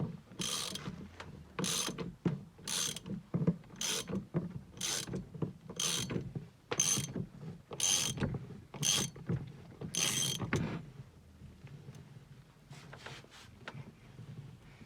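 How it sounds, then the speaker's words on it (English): A hand ratchet clicks in repeated bursts while a bolt is tightened by hand through an extension, the rapid pawl ticking coming in about nine evenly spaced strokes up close, then fading to fainter scattered clicks. "We're putting an extension through it so we can hold it down there while we tighten it up here."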